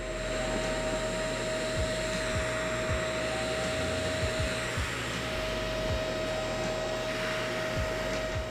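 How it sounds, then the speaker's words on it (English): A Groomdora 4-in-1 electric pet grooming trimmer runs with a steady, close motor whine and airy hum, continuous throughout with small clicks and bumps as it moves, no talking. "let's try out the trimming tool"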